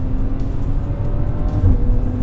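A Maserati Levante S petrol engine revs close by with a deep, rumbling growl that swells and surges in uneven pulses, loud and alone.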